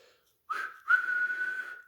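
Two whistle blasts sound in succession, a short one then a longer sustained tone, clear and fairly close.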